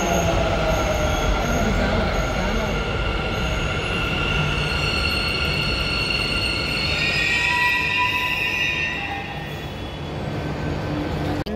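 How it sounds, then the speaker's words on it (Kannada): A metro train pulls into a station, loud and close, with a rumbling roll and high squealing wheels and brakes that fade as it slows. "ಎಂಕಲ್ ಇತ್ತ ಮೆಟ್ರೋ ಸ್ಟೇಷನ್ಗೆ ಬತ್ತ"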